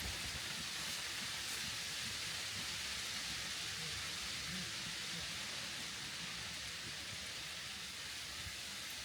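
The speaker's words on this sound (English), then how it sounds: "Just as I pull in, it starts to rain." Rain falls at night around a truck camper on a chilly evening near 49 degrees, a steady, even hiss of drops with no break and no voices.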